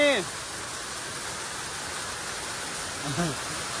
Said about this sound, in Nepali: यस्तो पानी पर्दैछ